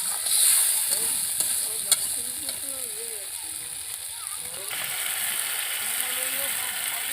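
Potatoes fry with spices in a pan, a soft sizzle with occasional stirring scrapes running underneath a person talking throughout.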